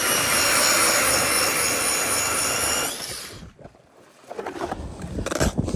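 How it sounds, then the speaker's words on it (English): A hand or power ice auger bores a hole through lake ice on a cold camping trip, giving a loud, steady grinding roar that holds for about three seconds, then breaks off into scattered scraping and crunching of ice. "see if we can't drill a hole."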